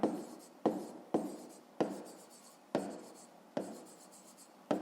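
Pen strokes writing numbers during a fifth-grade maths exercise, a series of crisp scratchy marks in a steady rhythm, close and fairly quiet with short pauses between strokes.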